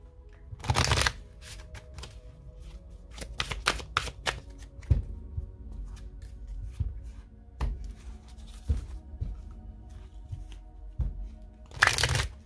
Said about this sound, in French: Alors ce jeu, je peux le prendre à l'endroit, à l'envers. Donc on va bien le mélanger.